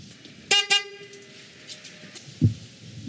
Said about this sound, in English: that is my stock horn